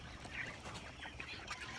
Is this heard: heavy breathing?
no